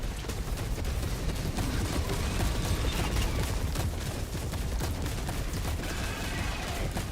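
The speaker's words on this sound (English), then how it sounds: "Requesting orbital!" An orbital barrage strike in Helldivers 2, a dense continuous rumble of explosions and gunfire that stays loud and steady throughout with no talk over it.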